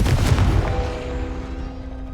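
A Confringo blasting spell explodes in Hogwarts Legacy, a loud booming burst that rumbles and fades over about two seconds with a lingering ringing tone.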